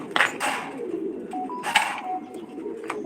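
Pigeons cooing at a pigeon farm in Senbag, Noakhali, where paired Blue Racer and Sirazi birds are kept; soft repeated coos and brief flutters over a steady background murmur of other birds, moderately close.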